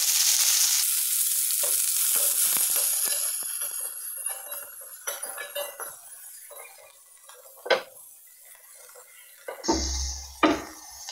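A large chopped onion hits hot oil in a kadai with a loud, bright sizzle that gradually subsides, followed by scattered metallic clinks and scrapes of a stirring spoon against the pan.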